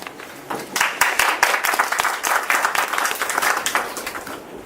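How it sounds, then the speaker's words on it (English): A small meeting audience at a Toastmasters session claps in a loose, uneven patter of individual hand claps, moderately loud and close, continuing for several seconds. "Let's welcome him with his applause."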